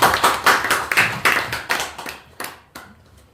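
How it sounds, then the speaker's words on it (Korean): A small audience at a literary talk concert claps after a poetry reading, with distinct, close handclaps in a quick rhythm that thin out and fade within a few seconds. "처음 낭독인데 우리 큰 박수 한번 보내드릴까요?"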